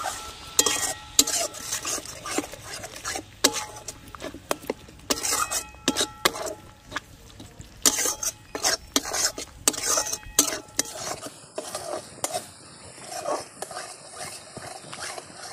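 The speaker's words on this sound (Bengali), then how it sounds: "সমস্ত উপকরণগুলো দিয়ে খুব ভালো করে কষিয়ে নেব।" Mustard and poppy seed paste with spices being stirred in a pan for a chitol fish curry, with repeated scraping and clinking of a utensil against the metal, irregular bursts close by, and no talk.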